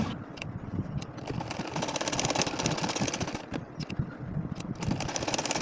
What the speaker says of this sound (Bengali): এখন এই যে আর একটা লাইন মানে চার নম্বর লাইনটা এখন আমি সেলাই করে নিব